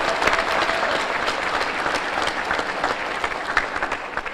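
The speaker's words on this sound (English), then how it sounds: "I'd like for you to give her a round of applause." Round of applause from the audience at a chamber of commerce luncheon, sustained even clapping across the room with a few sharper claps standing out.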